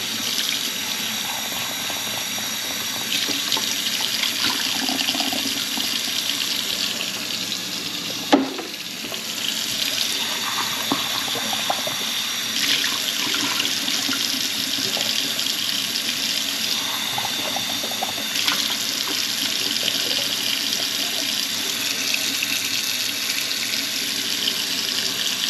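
Water pours from a tap into a sink in a steady, continuous splashing rush, close by, with a brief knock partway through and no talking.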